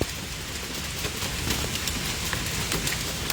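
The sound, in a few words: hail storm with heavy rain in western Oklahoma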